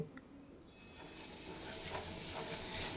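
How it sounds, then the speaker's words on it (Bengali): Ginger and slit green chilies sautéing in oil, a steady close sizzle that builds after a quieter first moment, with faint stirring scrapes and no talk. "আদা কাঁচা লঙ্কার কাঁচা গন্ধ চলে যাওয়া পর্যন্ত কষিয়ে নেওয়া হয়ে গেছে"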